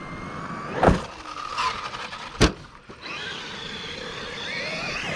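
A Traxxas Maxx 4S RC truck jumping off a ramp and landing: two sharp thuds about a second and a half apart, with a quieter rattle between them and faint motor whine afterward.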